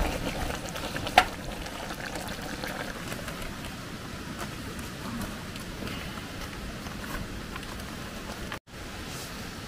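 A forest waterfall on a cold winter night at a camping spot in the United States, rushing in a steady, unbroken wash of water noise that fills the whole stretch, with a brief knock near the start.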